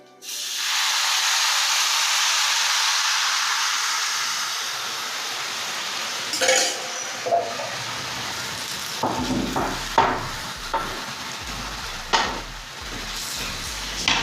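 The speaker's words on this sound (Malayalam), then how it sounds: "ഇതിനകത്തോട്ട് നമുക്ക് നമ്മുടെ ശർക്കരപ്പാനി ഒഴിച്ചു കൊടുക്കാം" Jaggery syrup poured into a hot pan bursts into a loud, steady hiss of steam and sizzle that slowly fades, followed by a few soft knocks and scrapes in a home kitchen.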